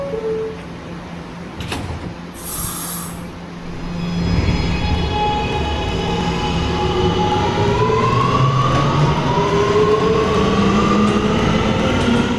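A simulated R211A subway train on the R line in the Roblox game PTA: a door chime, then a loud steady rumble of wheels and motors with rising whine tones as the train gets under way.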